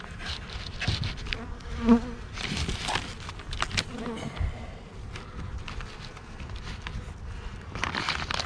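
Honeybees buzz around the entrance of a hive in spring, a close, continuous droning hum with individual bees passing near and away, mixed with faint handling noises.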